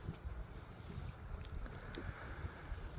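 Sea breeze on the Jeju coast beside swaying reeds, heard as a steady low rumbling wind buffeting against the microphone with faint lapping of water underneath.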